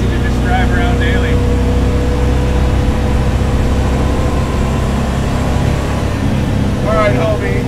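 A Rambler Ambassador wagon with little sound insulation, driven as a homebuilt track car, produces a loud, steady engine and road drone throughout, with voices briefly heard over it.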